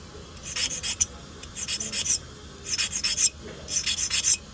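A dental curette scraped against a sharpening stone at the heel of the blade, sounding as four bursts of quick, raspy strokes close by, each burst a run of short scrapes separated by brief pauses, with no talking.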